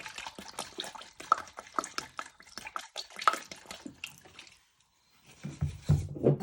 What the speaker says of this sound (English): Next step, you add in a good splash of soy sauce.